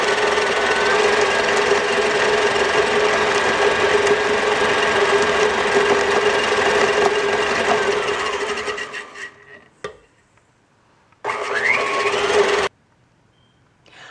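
An electric mixer whirs loudly and steadily while sugar is added a little at a time for chocolate tart cookie batter, then cuts out, briefly restarts and stops again.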